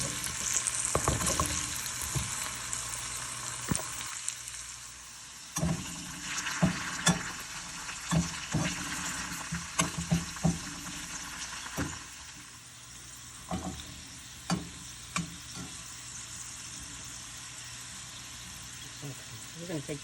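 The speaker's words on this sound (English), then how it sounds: "Next, we're going to start frying our potatoes." Potatoes fry in olive oil in a pan with a continuous close sizzle, broken by repeated knocks and scrapes as they are stirred and moved, and a person speaks over part of it.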